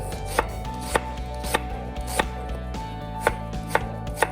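Half an onion chopped on a cutting board for Mediterranean shrimp tacos, with sharp knife strikes landing at a steady, unhurried rhythm, close and clear with no talk.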